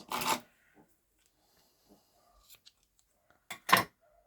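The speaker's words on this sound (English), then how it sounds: "I need some scissors to cut it." Two short rasping snips of scissors through paper, one at the start and one near the end, with quiet rustling in between.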